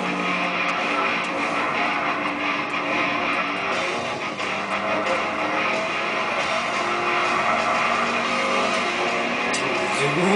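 A Ford Mustang GT races in the video game Gran Turismo 6, its engine droning continuously with shifting pitch and revving tones, loud and steady for the whole stretch.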